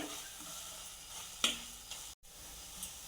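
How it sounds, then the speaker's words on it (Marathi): Carrot halwa stirred in a pan after cardamom powder is added, a soft continuous sizzle with a sharp scrape of the spoon midway and a brief dropout, no talking. "याला चांगलं मिक्स करून घेऊया"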